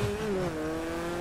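An old motorcycle engine revs up with a steady rising then falling whine, close and fairly loud, with no talk over it.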